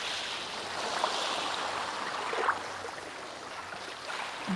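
A swift stream pours over rocks near an estuary, giving a constant hissing rush with occasional small splashes, even and fairly close.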